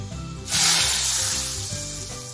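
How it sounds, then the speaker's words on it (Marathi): A tadka of dried red chillies in hot oil is poured over thick taro leaf sabzi and bursts into a loud, sudden sizzle, then hisses steadily under faint background music. "आणि यामध्ये आपण सुक्या लाल मिरच्या टाकलेल्या आहेत. हा तडका यावरती"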